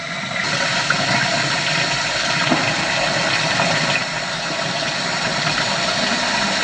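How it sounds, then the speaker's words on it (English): Water runs steadily into the bilge of a sailboat. It makes a constant, loud rushing noise with a faint low engine-like hum underneath, and no talking. "Alright, turn off your water, Sid."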